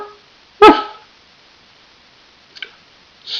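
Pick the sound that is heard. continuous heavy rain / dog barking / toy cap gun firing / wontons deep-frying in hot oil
dog barking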